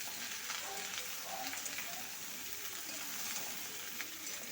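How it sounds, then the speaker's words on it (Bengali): Chopped bottle gourd sautéing in a pan makes a constant low hiss of moist frying, even and unbroken, fairly faint and close, with no talking. "লাউটা দিয়ে বেশ সুন্দর করে কিন্তু আমি কষিয়ে নিচ্ছি"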